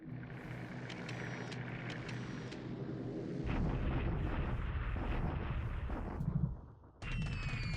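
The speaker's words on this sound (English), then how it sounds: "Flak is firing, but it's not very effective." Anti-aircraft flak fire during an air raid in the strategy game War in the Pacific, set at Bataan in February 1942: a dense, continuous rumble of booming bursts and crackling impacts that swells louder midway, dips briefly, then resumes at full strength with no talking.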